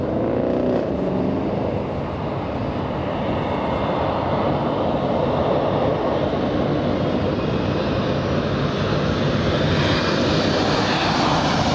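A Turkish Airlines airliner arriving at Los Angeles International Airport from Istanbul after a long-haul flight; a loud, continuous broadband engine roar builds and sustains throughout, close and without talk.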